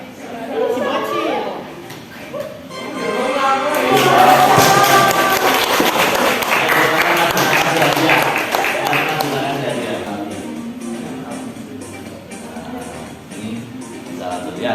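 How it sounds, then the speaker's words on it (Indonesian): Students in a classroom applaud a classmate: a swell of mixed clapping rises and fades over several seconds, mixed with children's chatter and a teacher's voice. "selamat tepuk tangan untuk teman kalian"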